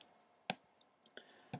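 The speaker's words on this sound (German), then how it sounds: "So, jetzt klicken wir drauf OK." Three sharp, close computer mouse clicks spaced apart, each short and distinct against a quiet room background.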